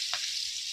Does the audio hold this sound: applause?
no